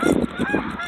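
Geese honk outdoors in late February, several loud, close calls in quick succession, with a steady hum underneath.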